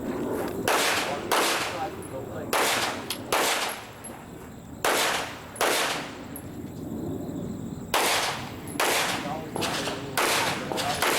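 Pistol shots on an IDPA match stage come in quick pairs and short bursts, loud and close, with pauses between strings and a brief lull mid-run.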